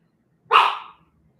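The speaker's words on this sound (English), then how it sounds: "I hope you like dog barking, because there's a lot of that in this video." A single close, loud dog bark, one sharp burst that fades quickly into silence.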